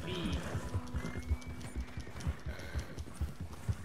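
A horse's hooves clip-clop at a steady trotting pace in the Red Dead Redemption 2 video game, regular close thuds with a brief whinny, under a voice.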